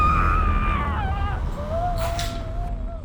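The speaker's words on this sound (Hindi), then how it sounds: "ये भी ना बहुत चिल्लाने लगी है।" A woman lets out long, high, wavering screams that fade to a thinner drawn-out wail in an indoor domestic drama scene, clear and fairly loud over a low background hum.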